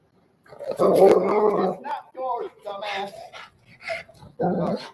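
A dog on a walk barks and growls protectively at close range in short, rough bursts, mixed with a voice.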